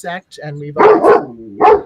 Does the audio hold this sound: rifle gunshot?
no